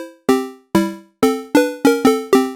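Synthesizer pulse wave, a square wave tone: seven short plucked notes in a simple bouncy melody, each decaying quickly, bright and buzzy, played alone and close.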